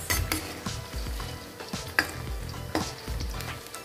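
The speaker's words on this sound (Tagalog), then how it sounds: "Pinipirito ko na po yung patatas." Potatoes fry in a pan for chicken afritada, a soft sizzle running underneath while a utensil repeatedly scrapes and clinks against the pan in irregular stirring strokes.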